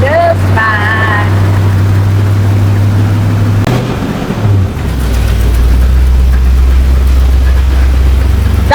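A 1978 Ford F250 Ranger XLT Camper Special 4x4 truck engine idles with a loud, steady low rumble close by. The pitch shifts briefly around the middle, then settles into a deeper, even idle.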